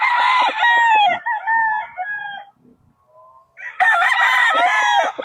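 A gamefowl rooster at a Bulacan game farm crows loudly and close, two long drawn-out calls split by a brief quiet gap with faint clucking, and no talking.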